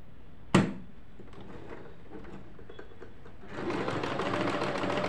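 A sewing machine stitching a fabric collar starts up after a sharp click and a quiet pause, then runs in a steady, close, whirring hum to the end.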